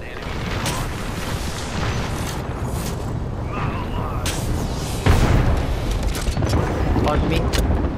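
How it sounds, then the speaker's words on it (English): Apex Legends gunfire and explosions: a dense run of weapon shots and booming impacts, with a heavy blast about midway that lifts the loudness, while voices talk over the action. "Getting shot at. Taking fire."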